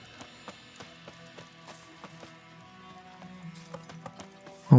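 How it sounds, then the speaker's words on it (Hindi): Horse hooves clip-clopping on the ground in the Witcher 3: Wild Hunt game, a steady trotting rhythm under game music and ambience, ending in a sudden louder thump. "अब हमें अपने घोड़े को लेना पड़ेगा।"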